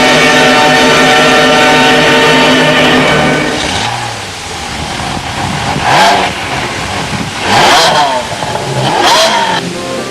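A Ferrari 360 Modena's 3.6-litre V8 idles loudly, then revs sharply in several rising bursts, each roar climbing and falling away.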